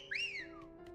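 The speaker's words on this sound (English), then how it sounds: "Did not mean a wolf whistle like that." A character in a video game gives a wolf whistle: one rising then falling whistled swoop, clear and fairly quiet, over a steady low game hum, with no talking.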